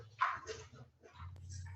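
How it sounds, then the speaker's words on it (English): A dog barks and yips indoors during a legislative board meeting, a few faint, short bursts with light whimpering, heard at a distance over quiet room noise. "I have a dog problem for 2 seconds here"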